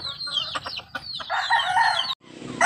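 Native Bulik chickens close by, mixing clucking with a rooster's crow, over about three seconds.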